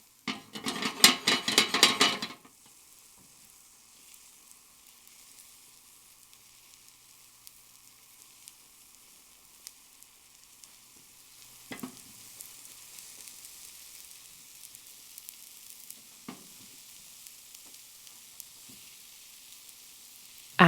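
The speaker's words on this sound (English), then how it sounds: "once the sides of the tortilla start to cook, give the pan a bit of a shake to make sure the bottom is not sticking" A Spanish potato tortilla cooks in a frying pan, opening with a short, loud burst of sizzling from a shake of the pan, then settling into a faint, sparse crackle for a long stretch.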